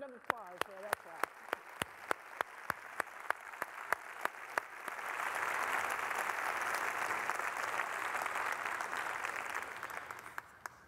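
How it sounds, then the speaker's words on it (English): Conference audience breaking into applause: a few isolated claps at first, then a full, sustained round of clapping from a large crowd in a hall, fading near the end, with a voice briefly heard. "So please join me in a round of applause for that class."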